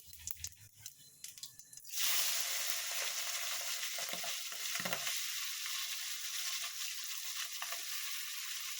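Prawns hit hot oil tempered with radhuni and burst into a loud, steady sizzle, with stirring and scraping in a pan on a gas stove under the hiss; quieter prep sounds come before the frying starts.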